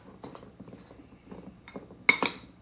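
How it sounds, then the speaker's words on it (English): Flour, white sugar, brown sugar and cinnamon being stirred in a bowl for an apple crisp, with soft scraping and light clinks of a utensil against the bowl, ending in two sharper knocks. "The flour, white sugar, brown sugar, and cinnamon. And I'm just going to mix that all together."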